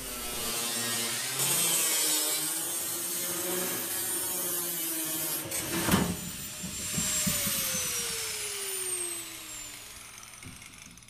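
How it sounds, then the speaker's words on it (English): Large and small angle grinders cut a hole through the steel wall of a shipping container, a steady harsh broadband grinding roar that ends with a sharp burst and a falling whine as a disc spins down. "I used large and small grinders to cut the hole."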